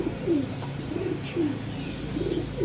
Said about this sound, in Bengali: মাদা পায়রা দেখুন কত সুন্দর স্ট্যান্ডিংটা দেখুন